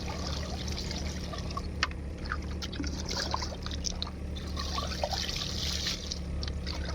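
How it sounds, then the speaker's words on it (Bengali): Water trickles and pours steadily into a water pump machine outdoors in a village, a continuous close liquid splashing over a low hum, with a few faint clinks. "এই যে মেশিনে জল দিচ্ছে।"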